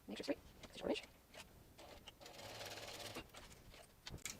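A sewing machine top stitching a sling bag runs in a brief steady burst in the middle, fairly quiet, amid handling noises and rustling close by.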